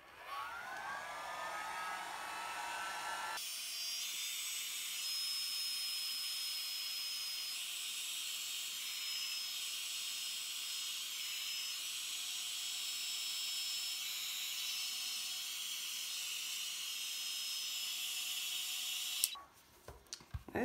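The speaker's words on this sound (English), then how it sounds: "I'm going to gently move it with my hairdryer." A hairdryer blows alcohol ink across a surface with a steady, loud whooshing whine for most of the stretch, switching on after a few seconds and cutting off near the end.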